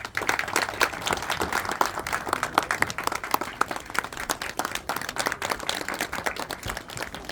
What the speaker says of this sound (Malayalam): എല്ലാവരും നിറഞ്ഞ കൈ കൈയടിയോടുകൂടി അദ്ദേഹത്തെ സ്വാഗതം ചെയ്യുക